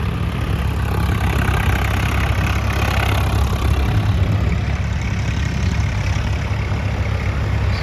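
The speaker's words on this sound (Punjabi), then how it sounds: "ਦੋ ਟਰੈਕਟਰ ਉਧਰ ਹੋਰ ਆ ਗਏ" Loud, steady low-pitched drone of tractor engines idling close by, a constant throbbing rumble with no voices.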